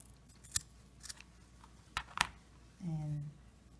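Scissors snipping rope wrapped around a buffalo check Christmas ornament: a few sharp, separate cuts close by, then a brief faint hum near the end.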